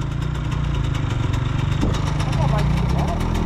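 A motorcycle is ridden uphill in first gear on a trail at Dora Creek, its engine revving in a steady, throbbing mid-pitched drone close by, while a man calls out encouragement over it.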